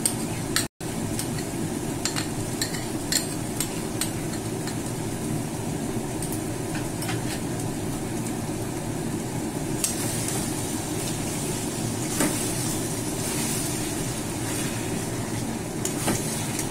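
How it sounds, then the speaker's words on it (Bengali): Cashew and raisin paste going into mutton already frying in oil with poppy seed paste, giving a steady dense sizzle throughout, with occasional light scraping and clinks of a utensil in the pan. "এবারে আমি কাজু আর কিশমিশ বাটাটা দিয়ে দিচ্ছি"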